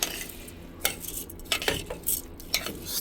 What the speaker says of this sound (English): stir it so we can mix the ghee with the rice